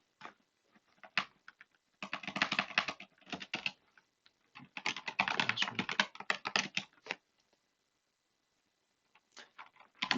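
A computer keyboard being typed on in bursts while a command is entered in a terminal, with rapid close clicks in a few dense runs separated by pauses and no speech.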